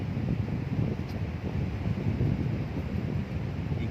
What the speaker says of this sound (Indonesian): Anginnya kencang banget ini.